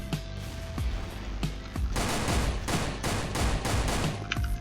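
Gunfire from the online shooter Sudden Attack 2: several separate shots early on, then a dense, loud burst of rapid automatic fire for a few seconds, with a few isolated shots at the end.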